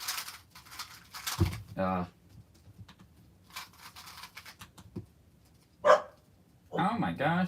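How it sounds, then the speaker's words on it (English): A dog barks a few separate times amid a snowy outdoor cubing gathering, short sharp yaps spaced apart, fairly close, with quiet background chatter and handling noises between them. "that's a dog"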